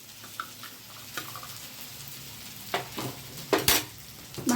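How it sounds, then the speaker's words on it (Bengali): Spices with turmeric and salt fry in a pan for lote fish momos, a steady close sizzle broken by several scraping stirs and clinks of a utensil against the pan, no voices. "মশলাগুলোকে ভেজে নিচ্ছি।"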